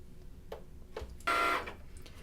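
A Cricut cutting machine cuts faux leather, with a few brief mechanical ticks followed by a short, louder whirring motor run, close by and alone.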